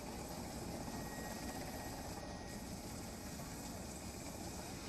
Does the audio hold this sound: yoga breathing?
no